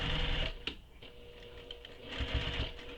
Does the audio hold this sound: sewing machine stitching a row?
yes